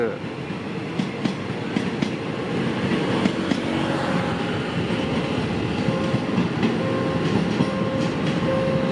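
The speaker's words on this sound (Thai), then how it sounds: "ขบวน 136 นะฮะ หัวรถจักรใหม่ ๆ ออกมาจาก โรงรถจักรดีเซลบางซื่อ" Train 136, hauled by a new diesel locomotive out of the Bang Sue depot, passes a road crossing on Ratchawithi Road, a steady loud rumble with wheel clatter filling the scene throughout, no talk.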